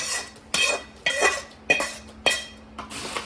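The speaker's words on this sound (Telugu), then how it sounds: "దీన్నంతా ఇందులో ఇలా వేసేసేయాలి" Fried lentils, chana dal, turmeric and salt are tipped into puffed rice for Rayalaseema-style masala borugulu, with five sharp metallic scrapes and clinks of a spoon on a pan at a steady rhythm, close and clear.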